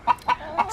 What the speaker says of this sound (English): They're all different varieties of chicken.